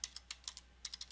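Search terms typed on a computer keyboard: about ten quick, light key clicks in two short bursts, close and quiet against a faint hum.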